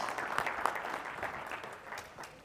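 An audience applauds a guest being introduced on a real estate investing panel at a convention; steady, fairly soft clapping from many hands fills the whole stretch with no voices.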